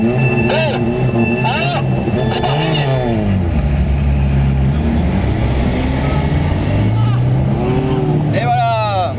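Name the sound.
Peugeot 206 car engine driving in sand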